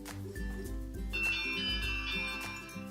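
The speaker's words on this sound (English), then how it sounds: "Lovely doorbell" A wooden toy doorbell from a Melissa & Doug doorbell house plays a faint, steady chiming tune of repeated low tones with brighter bell notes over the top, no voices.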